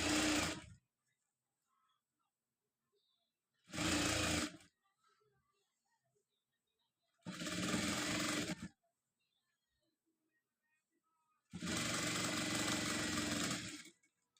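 Sewing machine stitching the sleeve of a designer frock, running in four separate short bursts of steady motor whir with silent pauses between them, close and clear.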